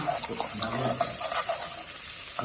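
Water pouring steadily into a pot of rice for pulao, a continuous splashing rush with faint clinks, no voices.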